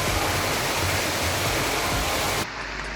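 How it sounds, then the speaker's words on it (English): A loud, continuous rush of falling water fills the air, then cuts abruptly to a quieter, distant roar. "Gotta get to that waterfall."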